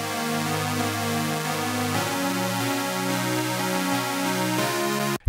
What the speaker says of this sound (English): In this case, I used wavetable with a saw/square type wavetable.